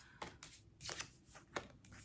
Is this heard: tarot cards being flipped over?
yes